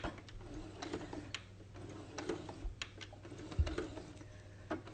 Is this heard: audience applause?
no